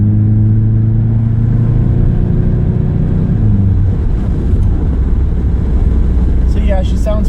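A 1987 Pontiac Fiero engine running, a loud low rumbling idle with harmonic drone that shifts pitch partway through as it revs, with brief speech at the end.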